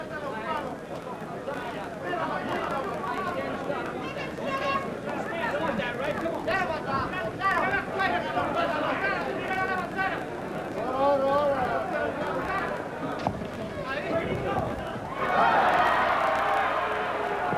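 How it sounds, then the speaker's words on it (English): A boxing arena crowd in Las Vegas murmurs and roars throughout a 1979 bout between Adolfo Viruet and Sugar Ray Leonard, steady dense babble swelling near the end, with a commentator's voice over it. "Crowd reacting."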